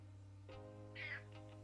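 A house cat gives a short, faint meow over a steady electrical hum indoors, with a couple of soft shuffling sounds around it.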